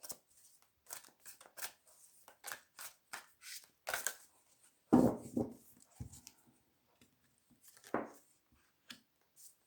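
Cards are shuffled and snapped in quick, irregular bursts up close, with a few louder thumps and rustles between shuffles.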